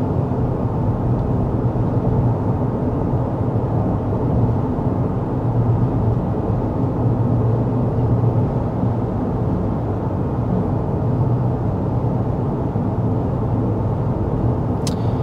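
Steady road and tire noise inside the cabin of a 2024 Honda Pilot cruising at 55 mph on a Kentucky road, a constant low rumble and hum with no talk over it.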